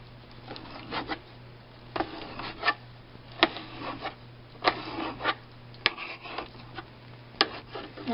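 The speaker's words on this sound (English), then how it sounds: "Just need a couple strips sliced off." A knife slices strips off food for a makeshift casserole, with a series of short, close rasping cuts in an uneven rhythm, each a brief scrape separated by quiet gaps.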